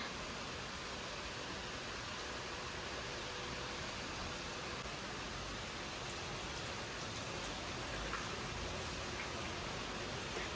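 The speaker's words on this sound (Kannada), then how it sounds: "ಇದು ಬಿಸಿಲು ಮಳೆ ಬರ್ತಾ ಇದೆ" Rain falls steadily while the sun is out, a dense, even hiss of drops striking surfaces at moderate volume with no breaks.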